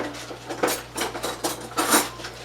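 A spoon clinks and scrapes repeatedly against a mixing bowl while sugar cookie batter is mixed, in a quick uneven rhythm of close, bright taps.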